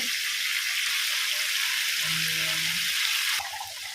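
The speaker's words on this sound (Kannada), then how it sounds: "ಫ್ರೈ ಆಗಲಿ, ಎಣ್ಣೆ ಸ್ವಲ್ಪ ಜಾಸ್ತಿ ಇದಕ್ಕೆ." Squid (bondas fish) fries in a generous amount of oil in a pan, making a constant loud hissing sizzle throughout, with a faint low hum partway through.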